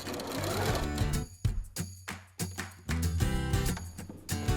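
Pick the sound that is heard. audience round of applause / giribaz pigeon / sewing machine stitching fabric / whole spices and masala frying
sewing machine stitching fabric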